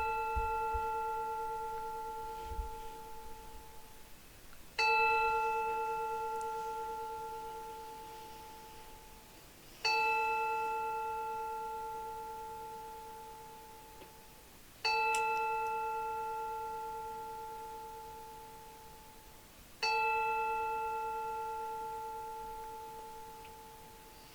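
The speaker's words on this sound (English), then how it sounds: "I'm going to be using the Tibetan bells, the Tibetan bowls." Tibetan singing bowls and bells are struck one at a time, five strikes about five seconds apart, each ringing with a clear sustained metallic tone that slowly fades before the next, alone with no voice.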